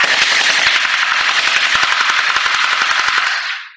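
Cpszship M4A1 gel ball blaster firing in a rapid full-auto burst, loud and close, a steady stream of sharp shots for over three seconds before stopping.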